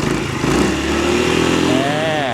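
A Suzuki Burgman 400 maxi scooter engine idles with a steady rumble close up, while someone talks over it.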